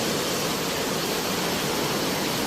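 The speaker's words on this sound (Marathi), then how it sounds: "एवढा मोठा पाऊस, लिटरली अंधार पडला आहे सगळीकडे" Heavy rain blowing in from the sea along Palm Beach Road during a dark thunderstorm, a dense, steady roar of downpour filling the whole clip at close range with no voices.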